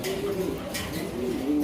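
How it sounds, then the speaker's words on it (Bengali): Fancy pigeons cooing in a breeder's loft, with soft repeated low coos continuing steadily through the short stretch amid faint background hubbub. "দেখেন খুবই সুন্দর কবুতরটা"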